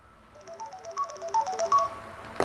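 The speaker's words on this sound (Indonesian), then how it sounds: "Sebentar, telepon perlu." A phone ringtone plays alone as a bright, rising melodic tune of short electronic notes, fairly loud and clear, ending abruptly.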